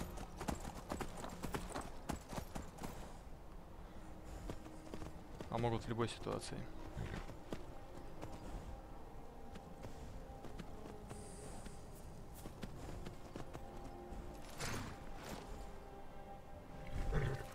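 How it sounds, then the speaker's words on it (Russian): A horse's hooves clip-clop repeatedly in the video game Skyrim, sounding close and rhythmic under intermittent game sounds and someone talking. "Знаменитая горная лошадь из Скайрима"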